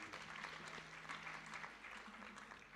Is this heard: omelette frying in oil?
no